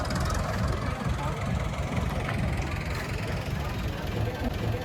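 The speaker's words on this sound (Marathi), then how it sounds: "इथं ट्रॅक्टर जाऊ दे हा थांब" A tractor engine rumbles close by with a steady low idle-like drone at a farm outing, loud and continuous throughout, with people talking over it.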